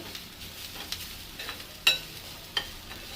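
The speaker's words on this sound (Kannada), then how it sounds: "ತೆಂಗಿನಕಾಯಿ ಕೂಡ ಒಳ್ಳೆ ಫ್ರೈ ಆಗಲಿ" Grated coconut frying in a pan for a temple-style saaru, a soft, steady sizzle broken by a few sharp scraping stirs.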